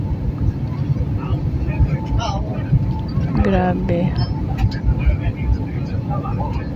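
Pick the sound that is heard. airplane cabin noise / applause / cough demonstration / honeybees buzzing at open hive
airplane cabin noise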